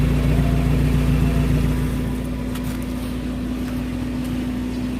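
A 2013 Suzuki Carry Futura 1.5 pickup engine runs at a steady idle, a loud, continuous low hum with a constant tone, easing slightly quieter partway through, with no voices.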